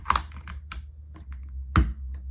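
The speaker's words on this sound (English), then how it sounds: "These are the Phoenix V2 switches, and they are very quiet." Typing on a Gamakay TK75 V2 keyboard fitted with quiet Phoenix V2 switches: a handful of soft, close keystrokes with uneven spacing, each a muted clack, in a quiet room.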